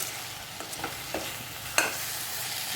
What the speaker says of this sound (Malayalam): വിനാഗിരിയും കൂടി ഒഴിച്ചിട്ട് നന്നായിട്ടൊന്ന് തിളച്ച് വേകണം.